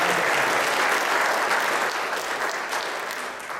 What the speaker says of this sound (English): So let's give them a round of applause.